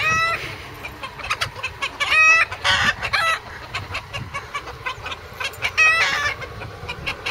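A flock of chickens, including newly arrived hens, clucks up close in rapid, overlapping bursts. Loud cackles and squawks repeat throughout.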